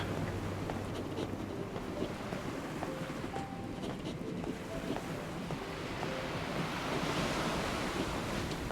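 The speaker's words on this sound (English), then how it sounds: "Fighting against the turbulent waves, the boy runs to the bow of the ship." Turbulent ocean waves surge around a drifting ship in the video game Nier Reincarnation, a steady broad wash of surf with gusting wind and faint creaks, continuous and fairly loud.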